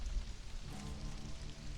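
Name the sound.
rain falling in the desert, from video game Stranded: Alien Dawn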